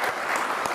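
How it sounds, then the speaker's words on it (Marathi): An audience claps steadily throughout, a dense, even wash of applause honouring a long-serving elder at a youth motivation event, with no speech over it. "तर अशा आमच्या टाकोले काकांसाठी जोरदार टाळ्या वाजवायचे."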